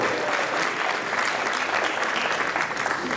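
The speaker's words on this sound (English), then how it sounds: "Let's give her a round of applause to Ashbot" Dinner guests break into full, sustained applause after a speech at a unity dinner, a thick, even roar of many hands that stays strong for the whole stretch.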